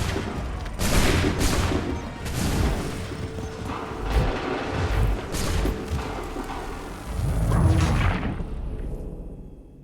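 Loud musket volleys boom in Assassin's Creed III, several heavy broadband blasts and thuds rolling across a battlefield, one after another with smoky rumbling decay, ending in quiet.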